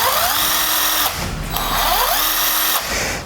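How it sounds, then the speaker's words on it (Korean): An electric drill whirs up in pitch as its trigger is squeezed, then winds down and spins up again, a loud close whine rising twice in a few seconds. "세게 힘을 줘서 당길수록 드릴의 속도가 빨라지는 것을 볼 수가 있어요"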